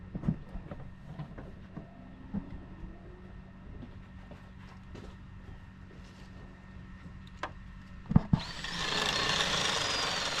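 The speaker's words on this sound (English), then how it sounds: "You got to be careful when drilling through metal" A power drill bores through metal on a Jeep during a light bar install, with scattered clanks and quieter tool noise before a loud, steady, high whine of drilling takes over near the end.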